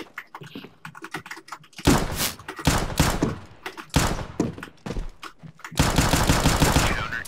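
Counter-Strike gunfire comes in loud, rapid bursts and single cracks, with short quieter gaps between volleys and a long sustained burst at the end.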